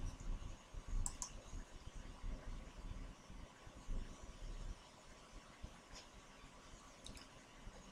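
A computer mouse clicks a few times, sharp and isolated, near the start and again toward the end, over a low steady rumble of background hum.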